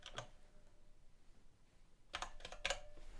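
Light computer keyboard typing in a quiet room: a single tap, a long pause, then a short quick burst of several clicks.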